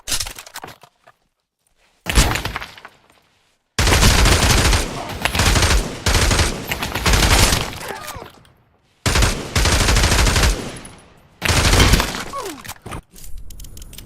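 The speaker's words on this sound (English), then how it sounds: "I'll just go back to normal shooting." Rapid bursts of gunfire in the VR shooter Pavlov, loud and close, coming in several clustered volleys separated by short silences, with no talking over them.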